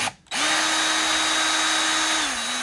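A power drill fitted with a star bit runs steadily on a low setting, backing bolts out of a Jeep Wrangler headlight; a short pause comes before one continuous close motor whine that dips in pitch near the end.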